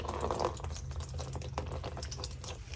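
Water flushes out of a Porsche Boxster 986 body drain into a cup, a faint, steady trickling and dripping stream with no voices.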